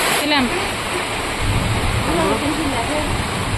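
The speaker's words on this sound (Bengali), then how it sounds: "মানে বৃষ্টি হতেই আছে হতেই আছে" Heavy rain pours steadily on a flooded house during the monsoon, a dense continuous hiss close by with voices audible faintly underneath.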